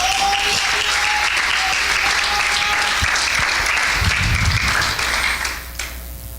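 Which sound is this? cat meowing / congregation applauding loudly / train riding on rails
congregation applauding loudly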